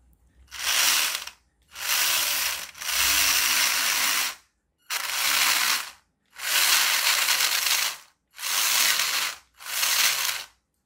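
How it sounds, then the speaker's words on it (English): A small motor in a Poundland toy car converted to radio control whirs in seven loud bursts of about a second each, separated by short silences, with a rough ratcheting gear rasp. "Okay, motor plugged in."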